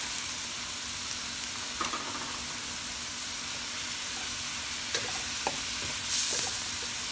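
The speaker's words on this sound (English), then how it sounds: "We're gonna melt the butter here." Butter melts and sizzles in a hot pan, a steady hissing fry with a few sharp clicks and a brief louder burst of spattering near the end, no voices.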